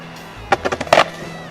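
Atom B.10 electric skateboard with a 1000W belt drive rolling and braking to a halt, a quick run of rough wheel clatter and bursts in the middle of the short clip, then quiet.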